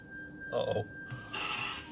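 A phone rings with a short, steady tone that holds across the brief moment, fairly close and moderately loud, while a voice speaks over part of it.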